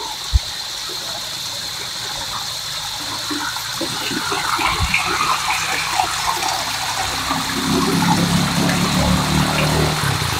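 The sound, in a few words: river water flowing down from upstream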